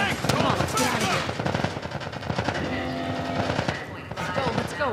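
Heavy automatic gunfire and scattered shots in The Last of Us Part I during a firefight with Fireflies at a closing checkpoint, loud and continuous with overlapping bursts and shouting voices.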